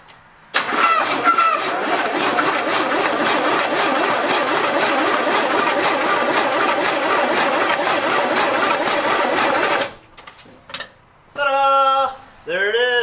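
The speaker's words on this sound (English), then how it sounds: "It's good to hear it's got a good strong starter though." An old muscle car stored for 33 years cranks with a strong starter, then catches and roars into a loud steady run, stops abruptly near the end, and is followed by brief voices and a few short engine bursts.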